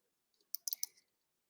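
Computer mouse double-clicked twice in quick succession, sharp near clicks in a quiet room with no talking.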